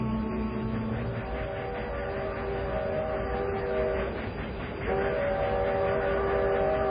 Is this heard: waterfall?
no